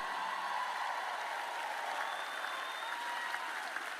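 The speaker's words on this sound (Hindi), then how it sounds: "मुझे खुशी है कि आप ताली बजा रहे हैं," Audience applause at a sermon, a steady even wash of many hands clapping at moderate distance, fairly quiet, with no voices over it.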